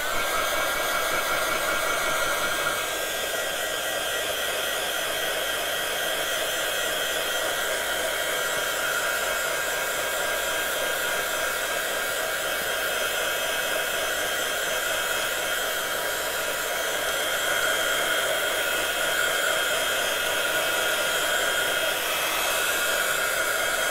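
A hair dryer blows steadily on Brushos colour powder for scrapbooking, a loud, continuous close whir with a constant airy roar that holds unbroken throughout, no voices over it.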